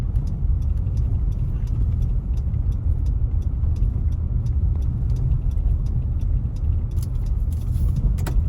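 A water truck rolls through a section of bypass under an overpass, giving a steady, low rumbling drive-by drone with faint rattling and ticking on top that swells slightly near the end.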